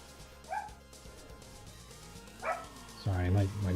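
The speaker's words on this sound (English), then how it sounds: "my dogs are losing their mind because my wife's in another room" Dogs in another room bark and yip in short bursts, a few sharp barks first and then a louder, sustained round of barking, heard indoors over a low background hum.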